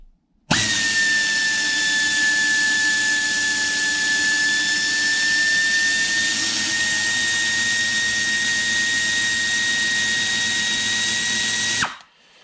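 A Neiko Pro 1/4 inch mini air ratchet runs on 110 PSI air in one continuous burst of about eleven seconds, a loud, close, high whine with a hissing edge that starts and stops abruptly.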